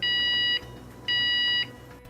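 Two loud, high electronic beeps from a vehicle lift's warning alarm, each lasting about half a second with a short gap between, sounding close and clear over a quiet hum.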